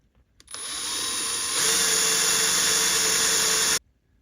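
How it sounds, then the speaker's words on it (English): A power drill with a dull bit whirs steadily through metal on an HO scale steam engine model kit, rising in pitch partway through, then cuts off abruptly after about three seconds of continuous drilling. "they still have a bit of life left in them when you use a power drill like this"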